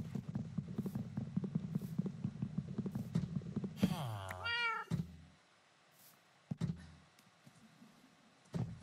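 Cats in Minecraft meow in several short, clear calls alongside game clicks and low background noise, followed by a longer drawn-out mew and a few sharp taps near the end.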